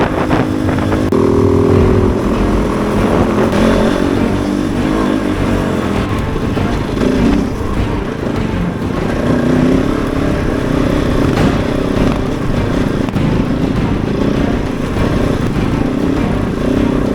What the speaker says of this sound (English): This Kove is keeping me very fresh at the pace I'm riding at.